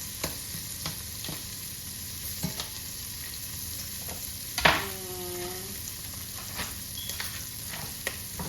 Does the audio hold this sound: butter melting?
yes